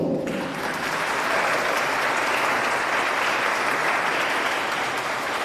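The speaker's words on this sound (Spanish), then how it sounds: "los aplausos fuertes para la niña Valesca Cobo Pico" Sustained, loud applause from an audience at a children's book reading event greets a young girl, a continuous wash of many clapping hands holding steady throughout.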